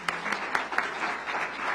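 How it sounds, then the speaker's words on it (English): Brief applause from an audience at a school strategic plan launch event, a short burst of moderate clapping heard from a slight distance. "Give a round of applause to Jim Klein as well."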